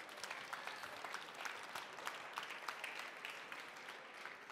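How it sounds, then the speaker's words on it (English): Audience applause at a science slam competition event, a steady dense patter of many hands clapping at moderate volume, sustained for several seconds without talk over it. "Give them another round of applause"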